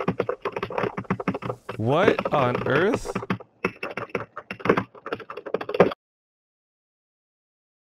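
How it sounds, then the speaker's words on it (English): Rapid computer keyboard typing clatters under a man's speech during a StarCraft II match commentary stream, then everything cuts to silence. "Is there weird typing going on?"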